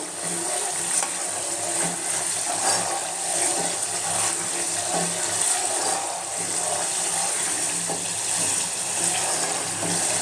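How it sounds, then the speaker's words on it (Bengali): Homemade ghee made from milk cream boiling in a pan, a steady dense bubbling crackle with faint clicks throughout, close and continuous with no talk. "আমাদের ঘি এখন ফুটছে"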